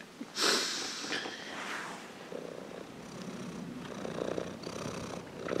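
A tired cat purrs softly up close, with a sniff or snort near the start and a steady low rumble under light breathy noise.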